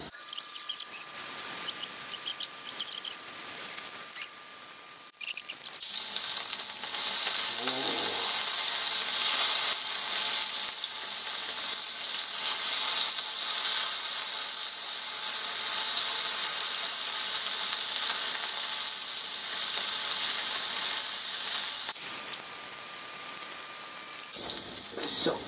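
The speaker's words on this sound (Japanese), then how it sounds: "長ネギを焼くと、人参も適当に置いておくと" Leeks and carrots grilling start with a quiet stretch, then a loud, steady hiss of sizzling begins after a few seconds. It holds for most of the clip and drops back at the end, with no talk.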